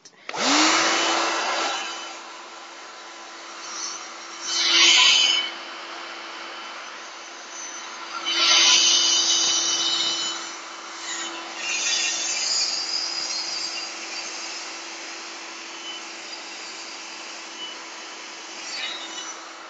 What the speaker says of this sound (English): I'm just going to blow dry bits of it.